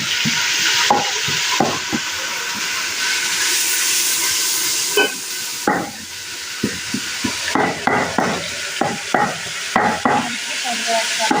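Onions fry in a pan for kadhi with a steady broadband sizzle and hiss, punctuated by repeated short clanks and scrapes of a stirring spoon that grow more frequent toward the end.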